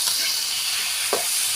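Vegetables with bottle gourd and lentils frying in a pan: a steady bright sizzle and hiss with a brief stirring scrape near the end, close and continuous, without talk.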